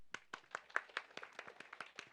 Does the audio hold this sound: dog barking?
no